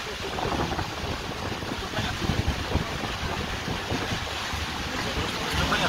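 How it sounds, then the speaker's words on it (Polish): Heavy rain and strong wind lash down during a storm at a volunteer fire brigade's 200th anniversary celebration in Nowe Brzesko, a dense, steady roar of downpour and gusts filling the whole stretch with no break. "Deszczu jest sporo i mocny wiatr."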